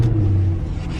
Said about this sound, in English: I'm about to give it its first start up